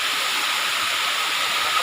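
A tall waterfall in a virgin forest roars steadily at close range, a loud continuous hiss of falling water with no talk over it.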